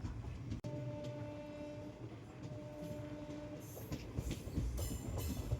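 The Lucknow Express runs past Naidupeta railway station, a steady rumble of rail cars with a brief sharp knock, a sustained tone that cuts out, and louder clattering toward the end, heard fairly faint.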